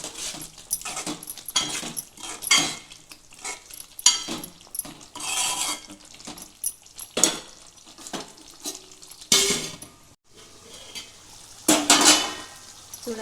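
Chicken gravy with fresh mint and coriander stirred in a pot, with a spoon scraping and clattering repeatedly against the metal over a low sizzle.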